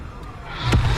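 A Confringo fire-blasting spell cast in Hogwarts Legacy lands as a single short, loud burst with a deep rumbling tail near the end, over a low background hum.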